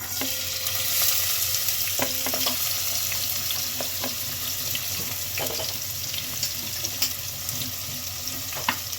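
Onion and bay leaf fry in a few spoonfuls of hot oil, a dense, steady sizzle close by, punctuated by occasional sharp clicks and scrapes of a spatula stirring the pan.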